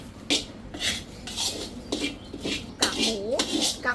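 Ground chili powder stir-roasted in a pan for a Thai chili paste with crispy pork, heard as repeated scraping and rasping strokes of a utensil against the pan in a steady rhythm, close and moderately loud.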